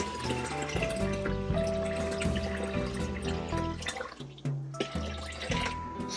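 Purified water poured into a bowl for sourdough dough, a steady close trickle and splash whose filling tone shifts as the level rises.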